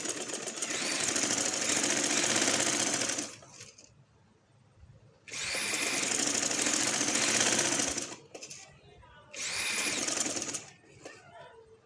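Sewing machine stitching along a garment neck edge, running in three loud bursts of rapid, steady whirring separated by quiet pauses.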